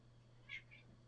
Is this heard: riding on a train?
no